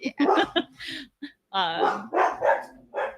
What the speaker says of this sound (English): I apologize for the loud barking.